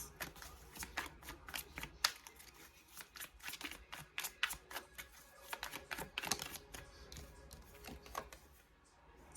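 Tarot cards are shuffled and drawn in a quiet room, with repeated crisp riffling snaps and slaps in quick bursts, close and fairly soft, pausing briefly near the end.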